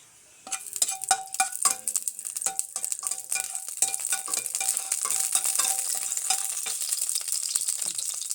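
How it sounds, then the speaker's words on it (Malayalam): Mango pieces sautéing in ghee for mango payasam: steady sizzling with repeated clinks and scrapes of a stirring spoon against the pan, close and moderately loud, no talking. "നെയ്യ് ഒഴിച്ച് നമ്മുടെ മാമ്പഴം ഒന്ന് നല്ലപോലെ ഒന്ന് വഴറ്റിയെടുക്കണം"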